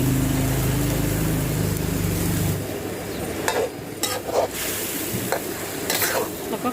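Catfish is stir-fried in a spicy herb sauce, producing a loud, close sizzle with repeated scraping stirs and spatula knocks, preceded by a low steady humming drone that cuts off after about two and a half seconds.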